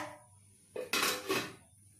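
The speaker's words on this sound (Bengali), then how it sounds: "সাত মিনিট পর কড়াইয়ের ঢাকনা খোলা হচ্ছে।" Metal lid lifted off a kadai of simmering vegetable curry with potatoes and taro, a short clatter and scrape of metal on metal in an otherwise quiet kitchen.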